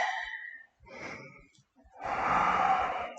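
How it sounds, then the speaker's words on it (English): Deep breathing during a yoga chair pose, a slow inhale and exhale with airy breaths heard close, separated by short pauses, then a longer, louder exhale. "Breathing deeply."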